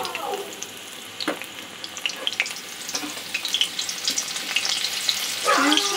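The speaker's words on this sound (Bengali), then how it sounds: "পেঁয়াজটা হালকা করে একটু ভেজে নেব।" Sliced onion frying in oil while cooking chicken jalfrezi, a soft steady sizzle with intermittent stirring scrapes and clinks, close and moderately loud throughout.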